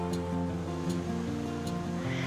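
Creek water and nearby waterfalls at a creekside bungalow in Asheville, North Carolina rush in a steady, dense wash, with a few faint ticks over the constant flow.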